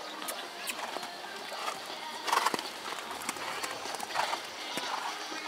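Hooves of a horse trotting on a circle during a riding-horse test in a dressage arena, a light steady clip-clop patter at moderate distance, with brief louder bursts and faint background sounds.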